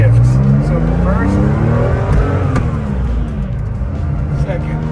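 Engine of a 1973 Porsche 911 T RSR recreation pulling hard through the gears on a road test, a loud steady drone with rising pitch sweeps broken by brief dips at the shifts, with talking faintly under it.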